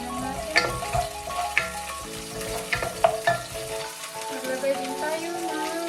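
Chopped onions fry in a pan and are stirred, giving a steady sizzle with scraping clicks and knocks from the utensil, close and moderately loud.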